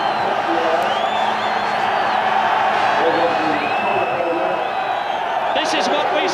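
A big crowd at the 1992 British Grand Prix cheering Nigel Mansell's victory: a dense, steady roar of cheers and whoops from a large outdoor gathering, with a commentator talking over it.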